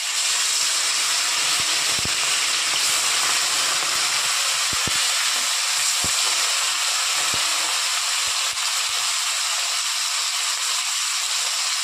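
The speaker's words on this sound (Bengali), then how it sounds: "এবার মাছগুলো ভেজে নেব।" Fish frying in well-heated oil for a Bengali mustard-poppy seed dish, a steady broadband sizzle running continuously with a few sharp crackles and pops, no voices.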